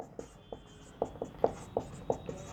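Pen strokes on paper mark out handwritten notes in a quiet room, a series of soft, close scratching taps spaced irregularly over a low background hum.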